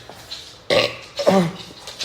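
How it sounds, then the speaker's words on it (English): A man belches loudly twice in quick succession, a strong burp followed by a second rumbling one, close to the microphone with no other sound. "I got to belch again."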